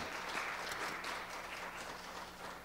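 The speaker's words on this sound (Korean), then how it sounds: "우리 다시 한번 하나님께 영광의 박수 올려드리도록 하겠습니다." A church congregation at a worship service applauds together, a steady, moderately distant wash of clapping that lasts a few seconds.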